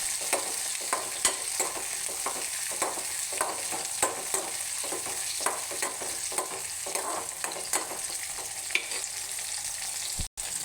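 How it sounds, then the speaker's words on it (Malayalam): Tomatoes sizzle steadily in a frying pan for a vegetable curry, with repeated soft scraping stirs ticking through the hiss; no one talks. "തക്കാളിക്ക് ഒന്ന് ഇളക്കി"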